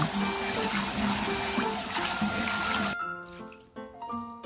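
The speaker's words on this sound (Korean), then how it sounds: "체에 맞춰서 재빨리 찬물에 담굽니다. 서너 번헹궈 줍니다." Cold tap water gushes and splashes over blanched fatsia shoots (dureup) in a sieve as they are rinsed, a loud continuous rush that cuts off abruptly, leaving drips and the clatter of handling in the sink.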